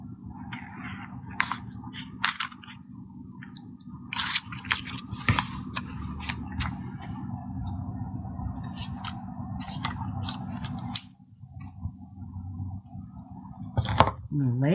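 Scissors snip closely around HTV vinyl letters, with a string of crisp, separate cuts at close range and quiet handling noise between them, while a person talks.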